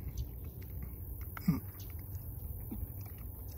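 Someone bites into and chews a sugar apple close by: a soft wet bite followed by quiet moist chewing against low outdoor background noise.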